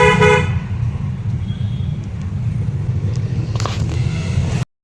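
Busy road traffic near a village during school closing time, with a car horn tooting up close over a steady engine and road rumble, a few more short honks following near the end.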